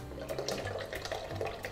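Pineapple juice from small containers pours steadily into a pot of wassail holiday punch, a continuous splashing liquid stream heard up close without speech.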